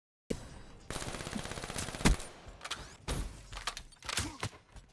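Rapid gunfire in the video game Black Ops 3, several loud bursts of automatic shots with a sharp crack near the middle and brief gaps between volleys.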